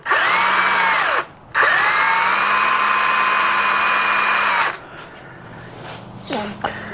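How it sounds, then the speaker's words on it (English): Power screwdriver driving screws into a wooden headboard, two long high whirring bursts separated by a brief pause, close and loud, then a short softer burst of activity at the end. "Some people might ask why I'm screwing them in as opposed to just gluing them on"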